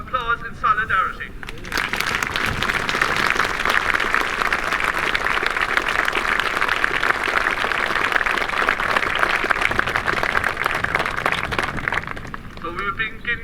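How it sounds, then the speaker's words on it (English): A school commemoration audience in Kinsale gives a sustained round of applause in solidarity with Ukraine, dense steady clapping for about ten seconds, with brief talk at the start and end. "we should show our support with a round of applause in solidarity"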